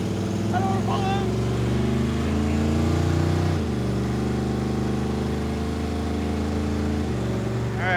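A 1950s Chevy Tri 5 rescued from a junkyard cruises on the highway, its engine droning steadily at speed with a brief drop in pitch partway through and voices talking over the hum.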